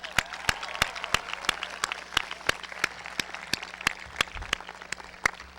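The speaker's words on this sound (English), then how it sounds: "How about a large round of applause for the class of 2015?" An audience at a 2015 high school graduation ceremony applauds the graduating class, with sharp, regular nearby claps standing out over a thinner, more distant spread of clapping.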